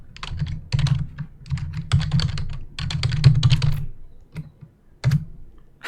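An email being typed on a computer keyboard in quick, close, clattering bursts of keystrokes, with a few short pauses and single taps near the end.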